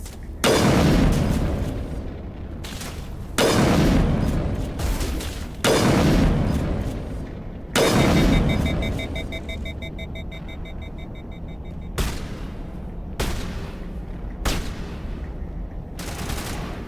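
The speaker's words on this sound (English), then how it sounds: "Who are they shooting at now?" Heavy gunfire in the game Mass Effect, four or five loud booming blasts spaced a couple of seconds apart, each decaying into a rumbling tail, followed by quieter scattered shots.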